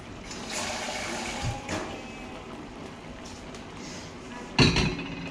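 Water poured into a pan of fish risotto cooking on the stove, a continuous gushing, splashing pour with a louder splash near the end.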